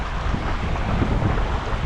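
Wind gusts buffet the microphone outdoors during a tenkara fishing trip, producing a steady low rumbling roar with no other sounds for about two seconds.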